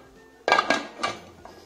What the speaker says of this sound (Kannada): ಕುಕ್ಕರ್ ಮುಚ್ಚಳ ಮುಚ್ಚಿ